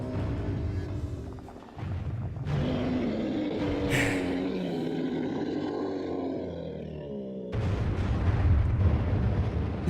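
Game explosion from Metroid Prime Trilogy, a loud sustained roaring rumble across the whole stretch, with a dip near the start and a heavier surge toward the end, no talk over it.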